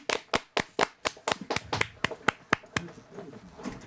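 A small group in a radio studio claps in unison, sounding about a dozen sharp, evenly spaced claps at a brisk pace before the rhythm loosens and fades out.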